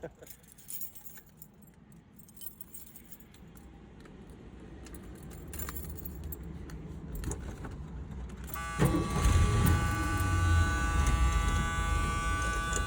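Keys jangle near a 1981 Ford pickup truck before its engine starts with a sudden loud whirring rise, then runs steadily with a buzzing drone; faint voices sound early on.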